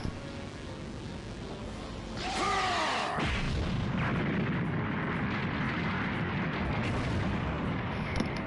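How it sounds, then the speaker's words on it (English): Light Grenade energy blast from Piccolo in Dragon Ball Z: Kakarot, fought against Android 17: a loud rising whoosh bursts into a sustained roaring explosion that rumbles on for several seconds, with no voices. "Get. Light grenade!"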